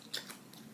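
A raw vegan daikon snack being bitten, giving a few faint, quick crisp crunches close to the mic with no talking.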